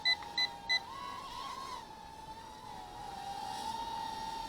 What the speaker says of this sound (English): Just hit the button, beep, beep, beep